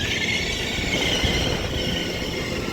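Transport for Wales Class 175 diesel unit arriving at Manchester Airport station, a steady loud rumble of the train with a high wheel squeal running throughout, no voices.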